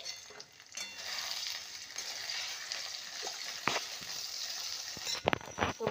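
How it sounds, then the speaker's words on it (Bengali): An egg fries in a pan with a little salt, giving a continuous soft sizzle with occasional spatula scrapes and taps against the pan, growing busier with clinks near the end. "শুধু একটু নুন দিয়ে আমি ভেজে তুলে রাখবো ডিমটা"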